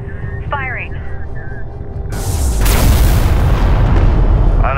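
Artillery fires in the Homeworld: Deserts of Kharak game with a deep booming blast and a long rumbling roar that follows it. Radio-style voices talk just before the shot.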